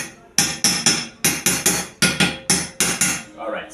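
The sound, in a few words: hammering generator part into place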